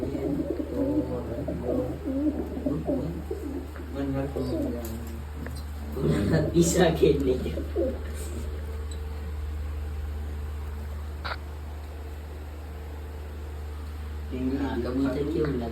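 Pigeons coo softly in low, repeated calls while people talk nearby, with a constant background hum.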